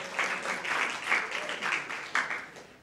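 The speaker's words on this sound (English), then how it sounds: "Give yourselves a big round of applause, please." A university panel audience gives itself a round of applause, a moderate, somewhat distant patter of clapping that swells in irregular bursts and stays fairly quiet throughout.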